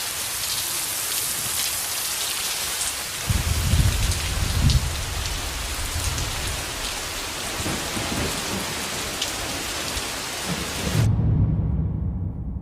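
Heavy, boiling-hot primordial rain pours down steadily in a dense, continuous roar, with low rumbling swells like distant thunder rising midway and again near the end.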